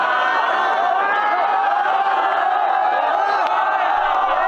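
A loud crowd at a rap battle roars and cheers continuously, a dense wall of shouting voices without a break.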